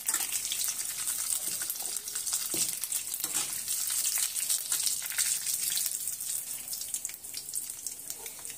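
Red and green chillies roast in hot oil in a pan for lemon rice, a steady bright sizzle and crackle running evenly throughout with occasional faint scraping, close and moderately loud.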